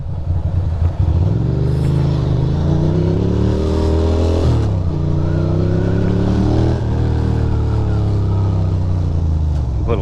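Datsun 620 pickup engine rumbling close up, swelling through several revs that rise and fall over a deep steady idle, with no talking over it.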